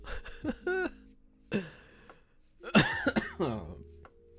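A few rough coughs and throat-clearing bursts, close and fairly loud, separated by short pauses.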